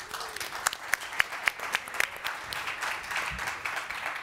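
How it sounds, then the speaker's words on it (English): An audience at a beverage competition finale claps in applause, a moderately loud burst of hand claps that starts sharp and settles into a steady patter before thinning out. "Come on up, round of applause."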